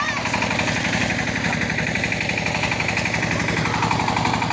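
A tractor ploughing a village field runs steadily, with a loud, continuous diesel chugging that has a rapid knocking pulse throughout, close by and alone.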